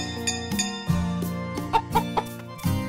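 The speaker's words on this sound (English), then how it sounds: "Let's let our chickens out." Video game chickens in Story of Seasons: Pioneers of Olive Town clucking after being let out, several short clucks and squawks popping over a steady background music loop.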